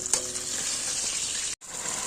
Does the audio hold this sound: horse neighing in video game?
no